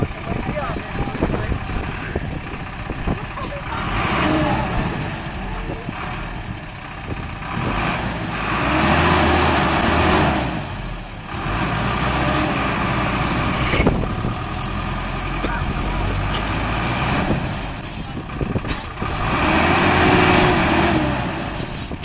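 Stuck bus labouring in woodland, its engine repeatedly surging and revving in long loud waves with people talking and calling out around it.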